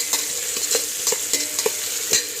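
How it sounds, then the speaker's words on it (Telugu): Fried rice is stirred in a hot pan, a steady sizzle running underneath while the spatula scrapes and tosses in several loud, irregular strokes, close up with no voices. "మంచిగా ఒకసారి తిప్పుకోండి."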